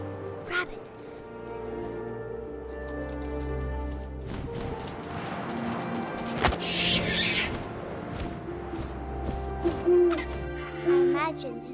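Owl hooting in the video game What Remains of Edith Finch, heard amid wind-like ambience, a sudden crashing thud midway, and a voice speaking throughout.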